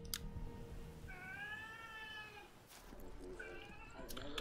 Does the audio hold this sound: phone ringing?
no